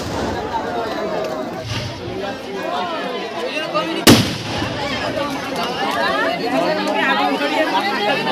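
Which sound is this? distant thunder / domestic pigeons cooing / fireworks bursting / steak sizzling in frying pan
fireworks bursting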